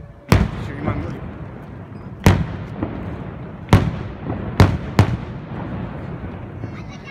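Cannon shots fired from the Mönchsberg for a festival, five sharp booming reports spaced a second or two apart, each with a rolling echo that decays across the town, loud and distinct with faint voices in between.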